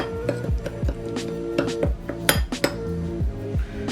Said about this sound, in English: 3 tablespoons of brown sugar, and 1 tablespoon of seasoned salt. And you want to mix all of this together